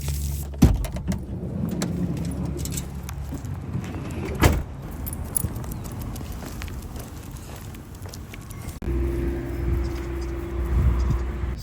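A vehicle rattling over bumpy roads near Buena Vista, Virginia, with a steady low road rumble, loose items jangling and sharp clunks from jolts, the rumble growing louder near the end.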